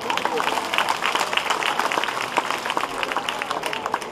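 Audience applause at a variety show, brisk, dense clapping from a crowd that stays fairly loud and even, with voices mixed in underneath.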